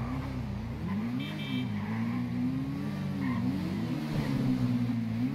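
A car in the GTA 5 video game drives off with a steady, droning engine hum that rises and falls slightly, continuous and fairly close.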